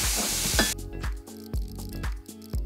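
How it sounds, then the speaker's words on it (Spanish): Onion and mushrooms hit butter in a skillet with a loud, close sizzle that lasts under a second before cutting off, followed by music. "Ahora en este mismo sartén agregamos la cebolla y los champiñones y agregamos 2 cucharadas de mantequilla"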